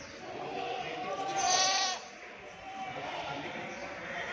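A goat at the Deonar livestock market gives one loud, quavering bleat lasting under a second, then market ambience continues with people talking in the background.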